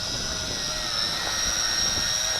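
A Yizhan i8h Tarantula quadcopter drone with altitude hold flies outdoors in strong wind, its steady high-pitched rotor whine running continuously over a rough blustery wind rumble.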